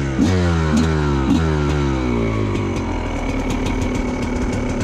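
A TM 250EN two-stroke enduro motorcycle revs loudly up close in a quarry, its pitch rising in repeated blips before settling into a steady, raspy drone with sharp crackles.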